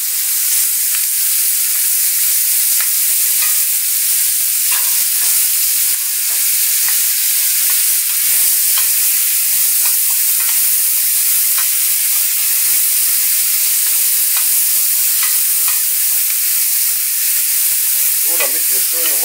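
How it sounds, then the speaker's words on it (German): Soup vegetables frying hard in the drippings left from a braised beef shoulder roast, a steady, loud broadband sizzle with occasional stirring scrapes, continuous for the whole stretch with no voices. "In dem Bratenansatz von dem Braten geben wir jetzt das Suppengemüse hinzu und braten das"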